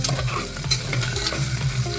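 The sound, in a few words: onion and spices frying in oil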